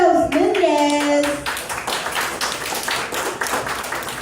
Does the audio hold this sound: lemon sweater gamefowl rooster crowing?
no